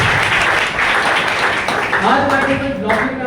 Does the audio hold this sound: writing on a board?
no